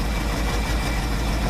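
An old truck engine idling with power steering working, a steady, loud low rumble with a faint rhythmic chug, continuous throughout and with no talking.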